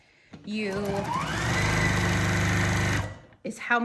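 A sewing machine stitching quilt binding, revving up to a fast, steady motor whir with rapid needle clatter for about three seconds before stopping, close, with a voice speaking over it.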